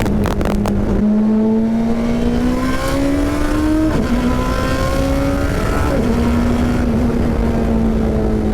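A race car at a racing school accelerating hard, its engine whine climbing in pitch through the gears with brief dips at each shift, loud and close from inside the car.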